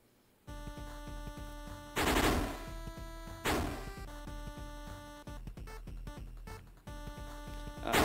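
Rapid bursts of gunfire from a student-made video game, loud crackling volleys over a steady musical drone with repeated sharp shots and a few heavier blasts, no talking.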